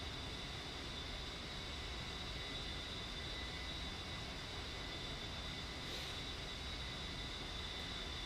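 Steady broadband roar of an A-10C jet flying in the DCS flight simulator, a continuous loud engine drone with a faint whine held evenly throughout, no speech.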